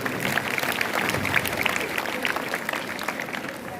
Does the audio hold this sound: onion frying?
no